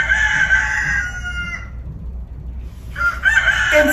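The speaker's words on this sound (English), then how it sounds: "It's a rooster crowing." A rooster crows loudly and close by in two bursts, a long drawn-out call, then a pause of near silence before a second crow begins.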